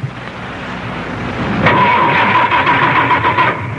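A car engine struggles through a hard start, its starter grinding before the engine catches and runs rough and loud. The sound effect is from a 1985 radio commercial.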